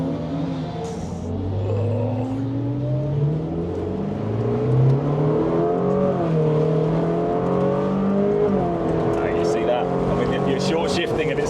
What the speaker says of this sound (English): He's just revving it up a bit.